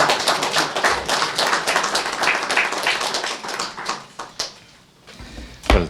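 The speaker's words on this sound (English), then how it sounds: "I think you deserve another round of applause" Applause at an international writers' meeting in Bled breaks out close by as a dense patter of claps, thins into scattered claps, then ends with one loud final clap.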